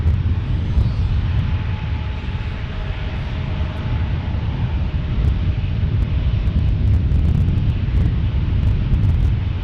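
Airliner passing at San Diego airport, a steady loud low roar of jet engines mixed with wind buffeting the microphone outdoors, continuous throughout.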